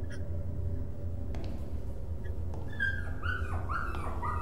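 Puppy whimpering inside a video game, a series of short rising and falling whines and yips over a steady low game drone and background hum, moderately loud and close.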